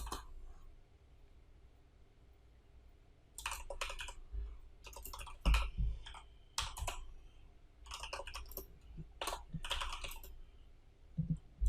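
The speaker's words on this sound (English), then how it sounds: "I'm just going to type it faster." Rapid bursts of typing on a computer keyboard, clattering in uneven runs with short pauses between them, fairly close and moderately loud against a quiet room background.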